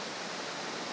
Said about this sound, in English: I'm sure you can hear the water now.